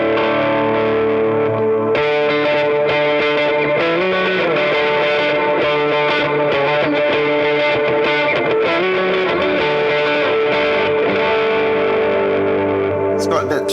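Distorted electric guitar chords and riffs ring out loud and steady through a ToneX Tweed 30 amp model, with a thick, slightly boxy, crunchy tone throughout.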